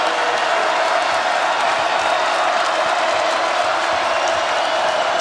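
Steady roar of a basketball arena crowd at a Purdue vs Indiana game, a dense wash of cheering voices sustained and fairly loud throughout with no single voice standing out.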